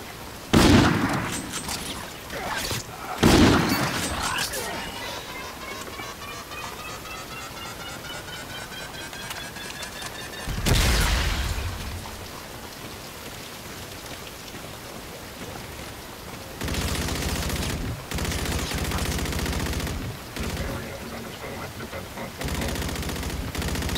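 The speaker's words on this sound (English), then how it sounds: "I can hear somebody trying to shoot at me" Gunfire in Call of Duty: Infinite Warfare on PlayStation 4 Pro: loud, sharp bursts near the start, again around the middle and later, separated by stretches of steady low background noise.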